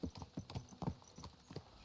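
Several horses in Kingdom Come Deliverance II clip-clop along at a quick, steady trot, the hoof beats close and clearly distinct in an even rhythm with no talking.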